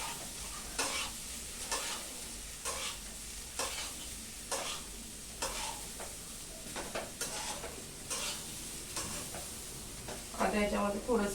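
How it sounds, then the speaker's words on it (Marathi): Sprouted bean usal tipped into hot tempering in a pan sets off a loud sizzle, then repeated stirring scrapes and hisses in a steady rhythm, with a brief clatter near the end. "आता हे उसळ फोडणीला टाकूया"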